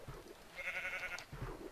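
Sheep bleating in the video game Minecraft, a single drawn-out bleat in the middle of the short clip, clear and fairly close, with faint game ambience around it and no talk.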